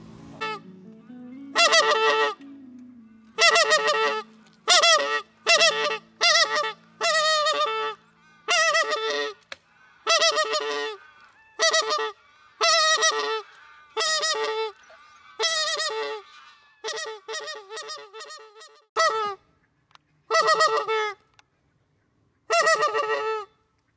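Waterfowl on a managed shooting pond give repeated loud honking calls in separate bursts, some in rapid doubled notes, close by and with no other sound between them.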